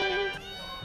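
A small black cat at an animal market gives a short, close meow that rises and then trails off, lasting under a second, with no talking over it.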